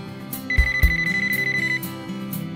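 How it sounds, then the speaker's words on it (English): A VTech CS6649 cordless phone handset rings with a steady electronic tone under a backing of upbeat music, sounding for about a second and a half before fading into the music. "you'll never have to scramble to find a ringing cordless handset"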